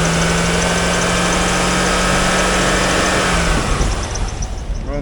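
A 2004 Chevrolet Corvette C5 with an LS1 V8 engine at about 102,000 miles idles steadily with a low, continuous rumble and a faint hum, then the tone shifts slightly near the end.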